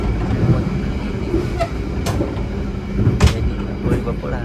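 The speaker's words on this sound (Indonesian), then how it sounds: "Pukul 23:30 kereta api Sangkuriang tiba stasiun Caruban." A Sangkuriang passenger train, running the Bandung to Banyuwangi route, rumbles steadily with a few sharp clanks and rattles, heard loud and close from inside the carriage at night.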